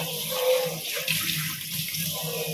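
A kitchen tap runs steadily into a bowl, a continuous close splashing gush of water with slight shifts in pitch as it fills.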